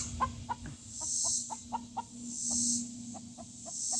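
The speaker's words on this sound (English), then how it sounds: "Every chicken that I have named after a zodiac sign is so loud." A loud, proud backyard hen named Aries clucks in a garden in Oklahoma, giving a quick series of sharp, evenly spaced clucks close by, with faint bird calls in the background.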